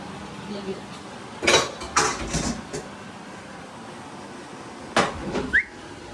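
Dishes and pots clatter in a home kitchen in a few short, loud bursts of clinking and knocking, separated by quieter stretches.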